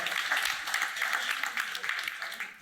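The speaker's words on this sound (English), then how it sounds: "Big round of applause." Dinner guests at a panel session give a round of applause, moderately faint clapping with uneven bursts, some voices mixed in underneath.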